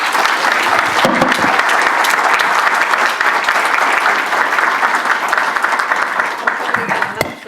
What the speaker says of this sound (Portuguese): eu tenho que pedir uma salva de palmas para os nossos coordenadores